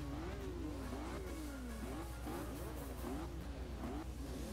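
A Nissan Skyline GT-R engine in the video game Forza Horizon 2 revving up and down through gear shifts, steady and continuous, somewhat faint, with no talking.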